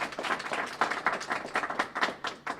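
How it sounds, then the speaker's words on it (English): Applause for two speakers at a live California schools press event: a small group claps at close range, quick uneven claps sounding moderately loud and fairly crisp, with no talking over them. "Could we have another round of applause for Maria and Leah?"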